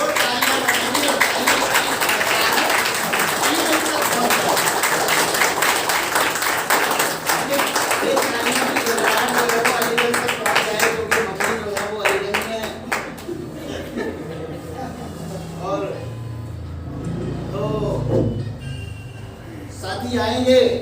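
Audience at a business seminar in Mainpuri bursts into loud, dense clapping as a guest's son is invited onstage, sustained for about twelve seconds before thinning out beneath a speaking voice.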